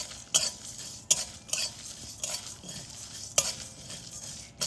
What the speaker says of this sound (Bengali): এবারে ভালো করে একটু নেড়ে চেড়ে একটু গরম করে নেব।